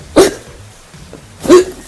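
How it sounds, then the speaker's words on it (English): Two sharp, close hiccups sound about a second and a quarter apart, each a short voiced gulp standing alone against a quiet background. "you just have the hiccups"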